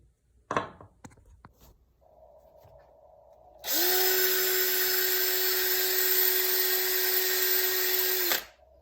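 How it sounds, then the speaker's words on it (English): A power drill spinning a bit wrapped in taped-on sandpaper whirs at high speed for several seconds against a wooden ring, a steady loud whine with sanding friction, preceded by a few clicks and a low hum. "I taped on some sandpaper onto a drill bit. I'm gonna put that into my drill"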